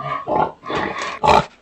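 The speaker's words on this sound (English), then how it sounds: "Pig. Pig." A pig grunting and oinking in three short rough bursts, close and fairly loud, the last one strongest.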